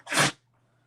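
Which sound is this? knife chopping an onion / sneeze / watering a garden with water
sneeze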